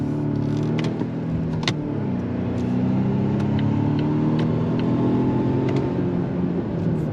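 A 2026 Volvo XC90 T8 hybrid SUV's engine hums steadily with a low drone that rises gradually as it accelerates on throttle, heard from inside the cabin without speech.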